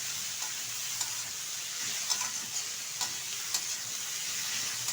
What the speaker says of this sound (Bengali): এখন ভালোভাবে এটা নেড়ে চেড়ে নেব।